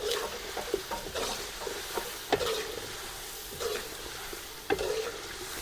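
Ground garlic, no ginger, sizzles lightly in a pan for an aloo korma, with steady frying hiss and a few stirring scrapes close by; no one speaks.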